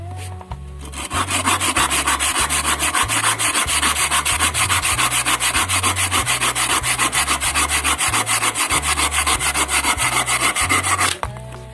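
A fine-toothed hand saw, sharpened and years old, cuts through a hard piece of wood in steady, rapid back-and-forth rasping strokes, loud and close, running nonstop for about ten seconds before stopping.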